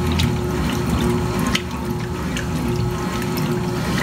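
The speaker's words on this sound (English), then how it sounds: "Very good wash action I've ever seen." A 1980s Kenmore laundry center washer on a cotton sturdy cycle sloshes and churns water steadily as it agitates, a continuous close, even wash sound with no talking.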